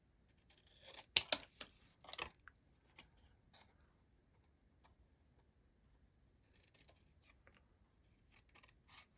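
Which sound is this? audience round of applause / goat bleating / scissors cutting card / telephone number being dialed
scissors cutting card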